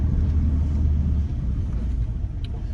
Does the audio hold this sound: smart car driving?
yes